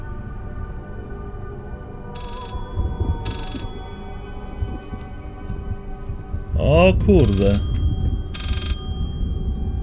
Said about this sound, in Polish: Gdzieś wysoko dzwoni telefon.